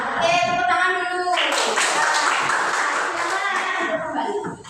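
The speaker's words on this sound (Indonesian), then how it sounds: "tepuk tangan dulu" A classroom of students claps their hands together in a dense burst of applause that follows a teacher's voice, then fades slightly toward the end.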